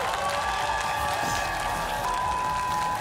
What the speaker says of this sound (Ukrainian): Ваші аплодисменти на цій сцені